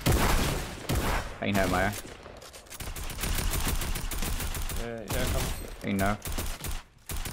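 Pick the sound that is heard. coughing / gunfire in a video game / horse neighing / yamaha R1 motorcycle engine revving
gunfire in a video game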